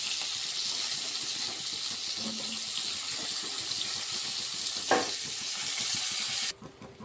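Pieces of pointed gourd frying lightly in hot oil in a home kitchen, a steady bright sizzle with faint stirring clinks, ending in a brief thump before it cuts off.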